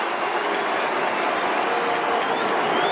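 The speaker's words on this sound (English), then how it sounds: "The Collingwood cheer squad at that end enjoy it far more than the Fremantle fans did in the West." Collingwood cheer squad roaring after a goal at an AFL match against Hawthorn, a dense, steady wall of distant crowd cheering and applause that holds at full strength throughout without a break.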